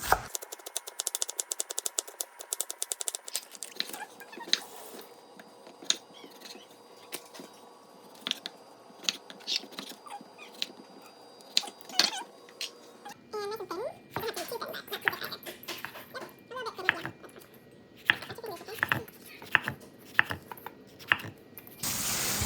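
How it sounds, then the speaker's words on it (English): A knife chops scallions on a cutting board for pho, with rapid uneven taps and clicks, a quieter stretch early on and louder, denser chopping later, with some faint voices. "Cut all of these scallions."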